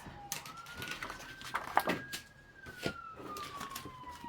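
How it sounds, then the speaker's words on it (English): A siren wails in the distance, its tone slowly rising and falling, with faint bird calls and scattered knocks around it. "because I hear sirens"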